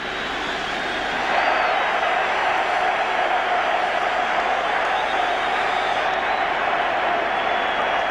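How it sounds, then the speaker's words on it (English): A large football crowd at Liverpool roars in delight after a goal in the 1977 European Cup Final, a dense sustained wall of cheering that swells after the first second and holds loud and steady. "Tommy Smith sends the Liverpool crowd into total delight."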